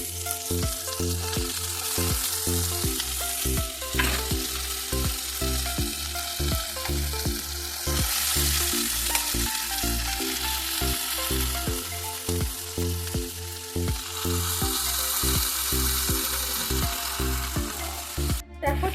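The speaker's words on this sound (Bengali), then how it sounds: "দেখো চিকেনটাকে একবারে ফ্রাই হতে দিয়ে দিয়েছি" Chicken pieces fry in a pan for kabsa pulao, giving a strong, even sizzle with occasional stirring. A steady low tonal pattern runs underneath throughout, and no one talks.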